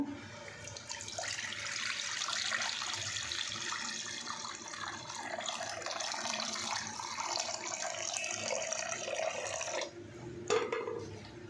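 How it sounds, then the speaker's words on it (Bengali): Water is poured into a wok for making coconut pitha, a steady splashing, rushing stream heard close and fairly loud for about ten seconds before it briefly stops and trickles. "কড়াইয়ের মধ্যে পানি দিয়ে দেব।"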